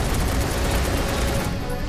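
Dense, rapid gunfire rattles without pause in Final Fantasy VII Remake, a loud, unbroken burst lasting about two seconds.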